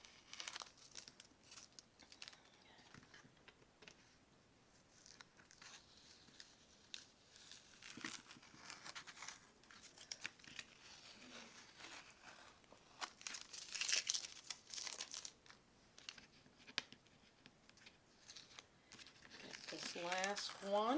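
Tape is peeled slowly off a paper craft project, producing faint, crackly tearing and crinkling across a stretch of quiet close-up handling, with a few louder rips near the end.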